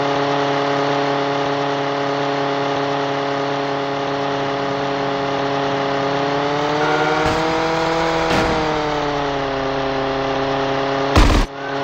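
Car engine from GTA San Andreas gameplay during a chase around a square, a steady loud drone with harmonic pitch rising and falling as it revs, plus a couple of brief sharp bursts near the end.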